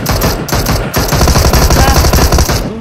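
Dense, rapid automatic gunfire from PUBG, loud and close, rattling almost without a break for about three seconds with no voices over it.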